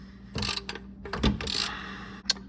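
A hand ratchet clicks in short quick bursts while tightening the oil drain plug on a 2013-2018 Lexus ES, close and crisp with brief pauses between strokes.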